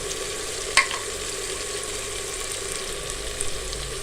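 Masala of dry coriander, turmeric, salt and kasuri methi fries in a pan for dhaba-style aloo qeema, giving a steady hissing sizzle with a brief clink of stirring early on and no talk.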